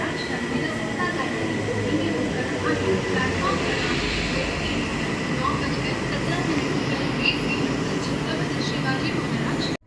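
A crowded AC local train travels on a weekday morning, its steady rolling rumble and faint rail clatter filling the carriage continuously, with passengers' voices mixed in throughout.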